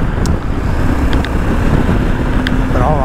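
A Husqvarna Norden 901 motorcycle on a test ride gives a steady engine roar, heavily buffeted by wind rush across the microphone. The sound stays loud and constant, with a few faint high clicks.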